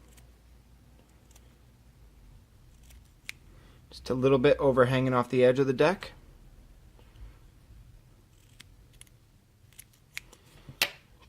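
Scissors snip at the deck of a Wotofo Freakshow RDA, giving a short burst of close, crisp cutting in the middle. Someone speaks quietly before and after, and the rest is near silence.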